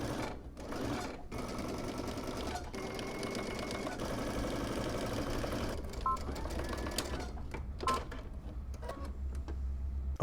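A domestic sewing machine runs a long steady stitching burst along a seam with a 5/8-inch allowance, with brief pauses and small mechanical clicks near the end, close and alone without voices.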